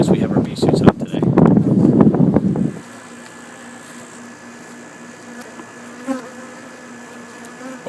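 Agitated honeybees swarm around hives during commercial pollination in Florida, a loud dense buzz under wind noise for about three seconds, then a faint thin hum.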